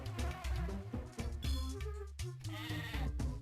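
Sheep bleating in a video game, several short wavering bleats in a row over light game sounds. The bleats are fairly loud and close, with no talk.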